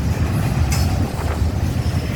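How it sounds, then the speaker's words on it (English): A freight train passes at the Port of Miami, a steady loud rumble of rolling wagons with faint wheel clatter and squeal, close and unbroken for the whole short stretch. "The Port of Miami train."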